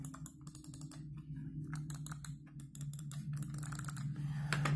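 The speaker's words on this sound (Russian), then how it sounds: "уже существуют мышки современные, которые лишены вот этого клика" Quick, irregular clicking from a Logitech M171 wireless mouse, sharp close taps in uneven bursts over a low steady hum in the background.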